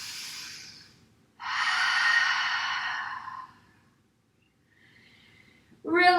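Deep breaths during a yoga flow on a mat: a long exhale, then a fuller, louder breath of several seconds, a pause, and a sharp intake at the end, close and clear with no talking.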